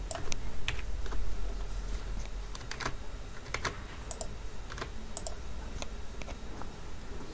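Rapid, uneven keystrokes clatter on a computer keyboard as code is typed, with sharp clicks and short bursts over a low steady hum, close and fairly quiet, no talking.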